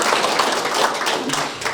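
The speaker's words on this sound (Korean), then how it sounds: "박수 한번 부탁드리겠습니다" Applause from an audience at a Korean memorial ceremony marking a clan ancestor's 200th commemorative rite, a dense steady patter of many hands clapping throughout.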